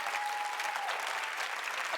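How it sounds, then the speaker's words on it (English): A television talk-show audience applauds, a dense steady wash of clapping that holds for a couple of seconds. "applause during my talk"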